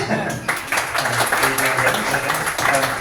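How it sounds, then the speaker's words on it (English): An audience at a tech demo night applauds in a brief, moderately loud burst of clapping, mixed with voices and room noise. "A second round of applause."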